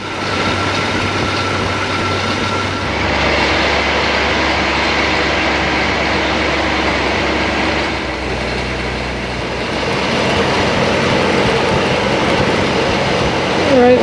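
A 1970.5 Ford Falcon engine runs at a steady fast idle around 1300 RPM during break-in, a continuous low drone that shifts slightly midway, with some talking over it.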